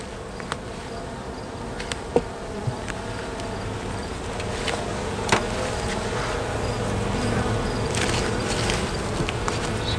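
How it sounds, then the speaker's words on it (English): Honeybees buzz around an open beehive during a super inspection, a dense, steady drone from many bees close by, with scattered small clicks and knocks from handling the hive frames. "Excuse me, bees."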